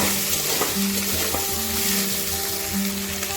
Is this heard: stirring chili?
yes